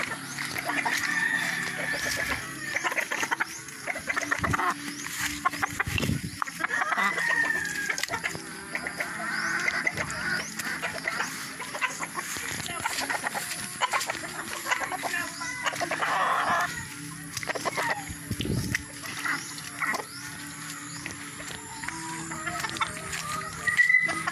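Chickens and a rooster in small backyard coops cluck and call continuously, with occasional louder crowing bursts and other farm-animal noises around them, a busy rural scene with faint voices.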